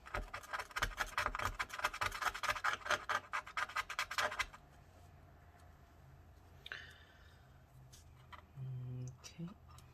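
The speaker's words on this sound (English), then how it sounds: "let's continue scraping." Rapid rhythmic scraping and rasping strokes inside a MacBook A1534 during a battery replacement, loud for about four seconds and then giving way to quieter handling noises and a low voice.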